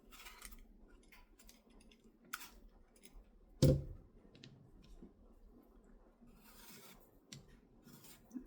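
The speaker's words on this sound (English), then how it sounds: "Canned apples. So I'm gonna peel them and then cut out the bad parts." A knife peeling apples for canning gives faint, intermittent scraping and rasping strokes up close, broken by one sharp knock partway through, in an otherwise quiet kitchen.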